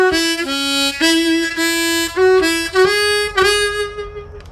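A short old-time harmonica phrase from the tune Going up to Hamburg, played alone with blow and bent draw notes on holes 2 and 3 in a steady, bouncy rhythm of about a dozen clear notes, close and moderately loud.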